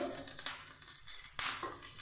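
Green chillies going into a pan of deep-fried red onions, giving a close, moderate sizzle with brief crackling bursts and a sharper spurt midway, no voices.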